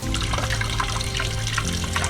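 Cold tap water runs steadily over frozen peeled vegetables at a sink, a continuous close splashing trickle with no pauses and no talking.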